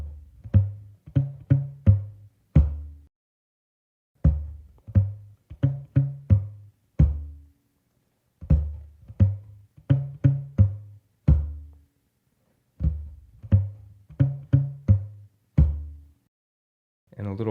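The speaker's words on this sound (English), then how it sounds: "So altogether it should sound like this if I mute the strings." Percussive, muted bass guitar notes are plucked in short rhythmic bursts, dull and thumpy with little sustain, repeating in phrases separated by brief pauses.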